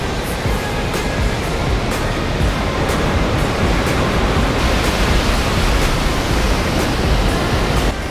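Ocean surf at a beach in Phuket, Thailand, a steady loud wash of breaking waves that fills the whole clip without pause, close and continuous.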